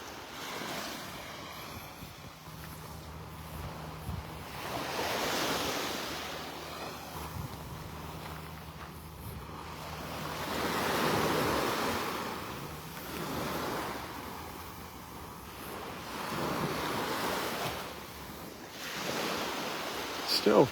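Calm ocean surf rolling onto a beach in North Naples, Florida as the tide turns to come in, with soft swells rising and fading every few seconds under steady light wind noise.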